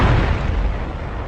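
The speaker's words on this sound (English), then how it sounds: "artillery shells begin exploding everywhere" Artillery shells bursting during a wartime retreat under fighter-bomber attack, a dense, loud rumble of blasts with heavy low-end boom rolling continuously without a break.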